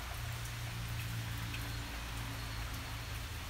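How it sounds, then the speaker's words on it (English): Rain falls outdoors in a steady, soft wash of drops, a constant even hiss at moderate distance with a low rumble underneath and no talking. "The sound of the rain."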